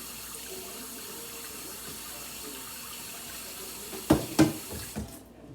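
Tap water runs steadily into a pot being filled for boiling in a home kitchen, then a few louder clunks and splashes come near the end before the flow stops.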